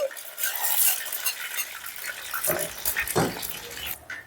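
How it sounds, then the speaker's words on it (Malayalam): Mustard and fenugreek seeds crackle and spit in hot oil, with scattered sharp pops and a metal utensil clinking against a pan. "എണ്ണ നന്നായിട്ട് ചൂടായി അതിനകത്തേക്ക് നമുക്ക് കുറച്ച് കടുകും കുറച്ച് ഉലുവ ഇട്ട് കൊടുക്കാം"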